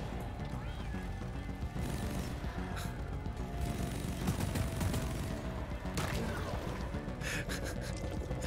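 Rapid bursts of gunfire in the video game Deep Rock Galactic crackle over a dense, busy soundscape, with scattered louder shots and a faint voice now and then.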